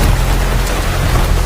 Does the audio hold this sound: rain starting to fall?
yes